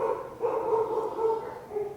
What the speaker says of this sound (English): children playing, dogs barking.